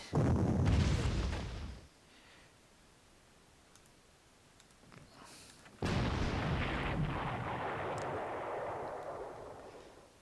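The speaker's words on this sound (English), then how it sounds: "Let's use the 88 gun." Heavy 88 gun artillery firing in the WWII strategy game Panzer Corps during a Warsaw battle: a loud broadband boom that decays, a quiet gap, then a second long rumbling blast with a lingering tail, no talk.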